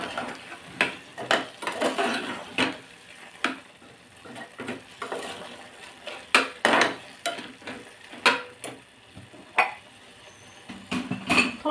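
Carrot halwa being stirred and cooked in a pan, with repeated scraping and clinking strokes of a spoon against metal, close and fairly loud, in an irregular rhythm over a faint sizzle.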